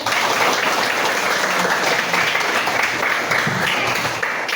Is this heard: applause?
yes